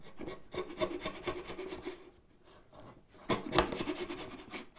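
A hand plane takes shavings off a high spot on a wooden board, giving close, rasping strokes in two bursts separated by a quiet pause.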